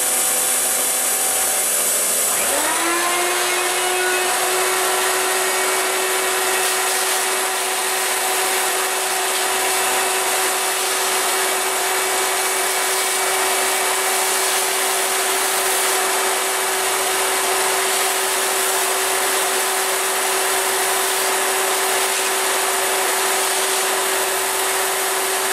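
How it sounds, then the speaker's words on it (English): A vacuum running at a milling machine starts abruptly after a couple of seconds, a loud, steady whine droning on continuously with a constant pitch, no voices. "I'm going to turn on a vacuum so you can see what's going on."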